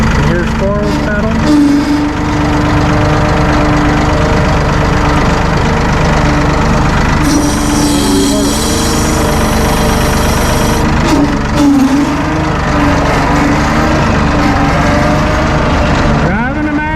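A Massey Ferguson 1E.40 compact tractor's diesel engine runs loud and close in a continuous steady idle, with a voice speaking over it throughout.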